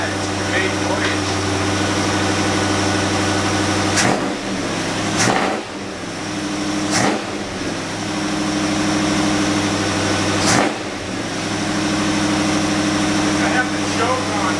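302 engine idling unevenly with the choke on too much, a steady low rumble with a few sharp sputters and dips in rhythm, close by and continuous throughout.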